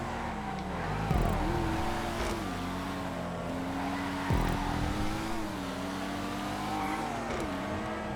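Race cars in GTA 5 drone steadily with engine tones that rise and fall through gear shifts, plus a couple of brief louder bursts as cars close in, loud and continuous throughout.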